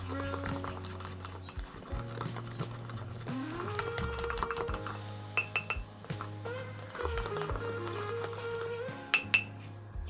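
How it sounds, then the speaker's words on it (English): A spoon clinks rapidly and repeatedly against a cup while stirring an activated charcoal mixture, close and busy with rhythmic tapping throughout. "Stir it very, very well till you have a good result."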